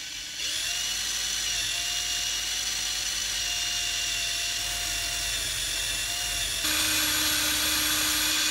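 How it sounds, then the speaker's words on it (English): A power drill polishes the aluminium engine cases of a BSA A70L Lightning motorcycle, a steady high whine that starts slow and holds, then steps up to a louder, faster pitch near the end. "We can start the drill off slow, just to get it soaked in."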